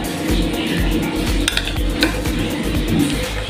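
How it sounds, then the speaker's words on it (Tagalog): Eggplant stirred in a pan with a metal utensil, giving rapid, continuous scraping and clinking against the pan over a soft sizzle, close and with no talk. "Ngayon ay halo ko na itong talong para magkalasa"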